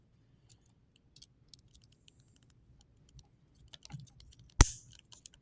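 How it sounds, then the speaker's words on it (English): Line 20/24 leather snap clicked together: faint scattered taps and handling noises, then a single sharp, close snap click. "So now we're going to click it together, see how it does."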